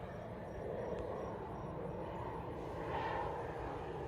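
An airplane passes overhead outdoors near a parked 2021 Toyota RAV4 TRD Off-Road, a faint, steady distant engine rumble that swells slightly toward the end.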